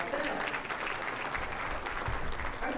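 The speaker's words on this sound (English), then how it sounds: "Round of applause for them." A seated audience at a Hall of Fame induction ceremony applauds sponsors, with steady dense clapping throughout, moderately distant.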